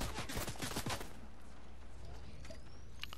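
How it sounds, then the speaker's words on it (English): Rapid bursts of gunfire in the video game Fortnite, a dense run of sharp shots in the first second that thins into scattered, fainter reports over a steady background. "There's people shooting at me."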